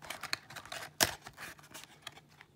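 Scissors cutting open a Yu-Gi-Oh trading card pack, a series of quick crinkly snips and plastic rustles at close range with one louder sharp snip, no speech.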